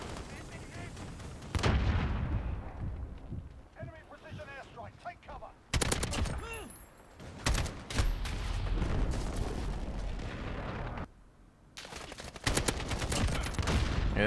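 Game gunfire in Modern Warfare with the 725 shotgun in play: loud bursts of shots and booming blasts come in heavy clusters, broken by short quieter gaps, while voices talk over the action.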